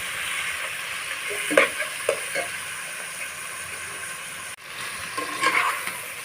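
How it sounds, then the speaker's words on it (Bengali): Chicken pieces are stir-fried for tehari in a hot pan, giving a steady sizzle with scraping stirs over it and a brief cut in the sound partway through. "চিকেনগুলো দিয়ে আমি একটু সময় নিয়ে কষাবো বন্ধুরা"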